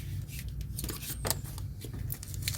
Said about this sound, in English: I'm just using regular scissors to cut this with